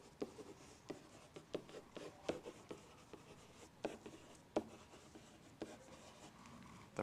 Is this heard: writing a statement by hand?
yes